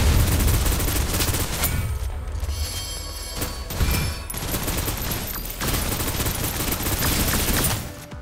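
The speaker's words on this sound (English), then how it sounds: "Take this! Suppressive fire." Sustained suppressive gunfire from Snowbreak: Containment Zone, loud continuous rapid bursts with booming low end that run almost without pause, briefly dipping before resuming at full intensity.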